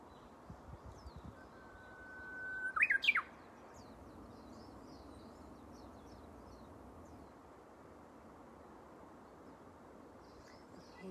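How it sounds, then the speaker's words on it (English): A bird calls from a tree outdoors, a single rising whistled note followed by a brief burst of chirps, faint over quiet background hiss with a few soft distant twitters. "I have this beautiful bird in the tree."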